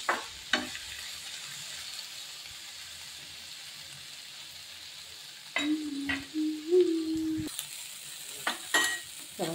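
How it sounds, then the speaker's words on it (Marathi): Tomatoes fry in a pan with a steady, soft sizzle throughout, broken by a few louder stirring clatters and brief scraping sounds near the end, with no talking. "चला टोमॅटो चांगले फ्राय झाले"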